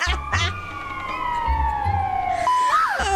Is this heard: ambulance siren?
yes